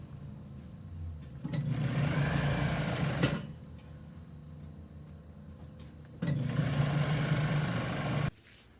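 A sewing machine stitches fluted chair upholstery in two steady motor-driven runs of rapid whirring stitching, separated by a quieter pause, close and with no talking.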